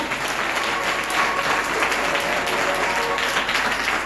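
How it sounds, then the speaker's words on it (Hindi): A church congregation at a Hindi Christian service clapping loudly, a dense, energetic burst of applause filling about four seconds at steady intensity. "जोरदार ताली बजाओ, जोरदार।"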